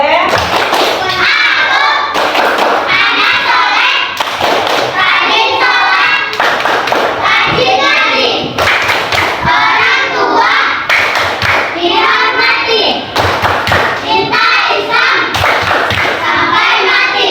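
Fourth-grade schoolchildren in a classroom perform a rhythmic clap chant, loud bursts of hand claps and thumps in repeated patterns alternating with children chanting together, close and energetic throughout.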